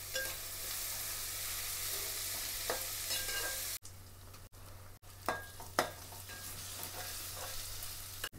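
Oil sizzling in a kadai for fish curry, a continuous close frying hiss with stirring scrapes, cut by brief pauses partway through before the sizzle resumes with louder stirring clatters.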